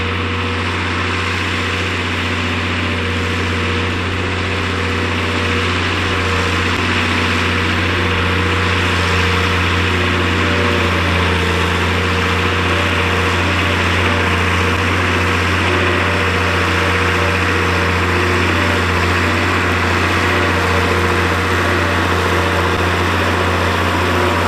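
A Ford-based Muir Hill tractor engine runs steadily for the whole stretch, a loud, constant drone with a deep, even hum and no voices over it.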